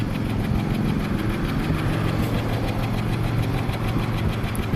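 A 1995 Buick Riviera with a supercharged V6 and a misfire idles, its exhaust giving a steady, close low rumble with a faint uneven pulse, with no talking over it.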